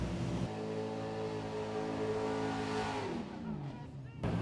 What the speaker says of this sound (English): Love the motor; it sounds amazing.